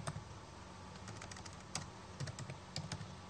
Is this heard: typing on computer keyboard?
yes